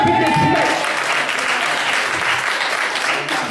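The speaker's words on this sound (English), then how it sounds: "clap your hands up in this place." A church congregation claps hands loudly and continuously during a sermon, a dense, close wash of applause with faint voices mixed in.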